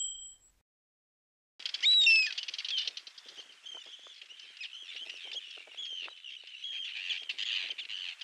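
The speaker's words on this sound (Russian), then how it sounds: "хорошо слышно, что где-то рядом каркает злой враг всех морских птиц – серая ворона" A hooded crow caws nearby near a nesting ruddy turnstone, its harsh calls repeating over an irregular stretch of bird calls after a brief silence.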